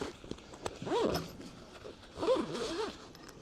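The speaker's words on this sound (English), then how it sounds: "zip it all shut, and then you're good to go" A zipper pulled shut on the carry bag of an AllPowers S700 power station, two quick rasping zips with soft handling sounds around them, fairly close and moderately quiet.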